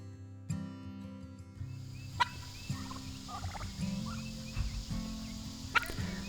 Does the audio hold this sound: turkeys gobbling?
yes